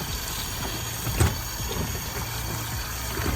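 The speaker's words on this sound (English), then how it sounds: "I'll turn the water back on" Tap water runs steadily into a large sink during the rinsing of an oryx hide at a taxidermy workshop, a continuous broadband rush with one brief knock partway through.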